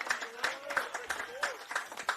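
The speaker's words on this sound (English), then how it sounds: "And there's a rise from the Sponsors Day crowd." Sponsors Day crowd at a QAFL Australian football match between Wilston Grange and Redland-Victoria Point clapping and cheering after a goal, scattered claps and calls under an excited commentator's voice.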